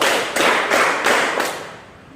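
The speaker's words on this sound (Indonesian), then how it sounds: "Tepuk tangan." Audience applause at a high school journalism training session, heard as a loud, dense wash of clapping that swells in a few surges and then fades.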